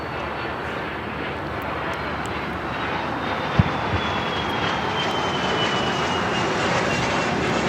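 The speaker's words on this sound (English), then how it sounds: "This is a Cessna 700 citation longitude taking off to Truckee, NetJets 810." A Cessna 700 Citation Longitude business jet, NetJets 810, takes off, its engine a steady broad roar with a faint whistling tone drifting downward, one brief knock partway through.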